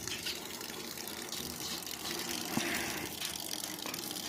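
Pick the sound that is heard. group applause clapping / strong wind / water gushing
water gushing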